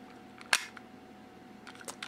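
A Samsung NX1100 camera's shutter snaps closed with one sharp click, followed by faint mechanical ticks as the camera processes the photo, heard close up and alone.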